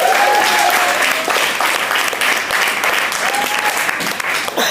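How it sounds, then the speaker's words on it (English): An audience at a women's storytelling event gives a loud, sustained round of applause, many hands clapping at once, with a few whoops over the top. "Give her a round of applause, please."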